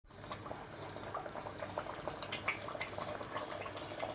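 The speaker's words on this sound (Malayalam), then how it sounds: "ഇതിപ്പോൾ നന്നായിട്ട് തിളയ്ക്കുന്നുണ്ട്." Dal curry with carrot, tomato and green chilli boils in a pot: soft, close, continuous bubbling and popping at low volume.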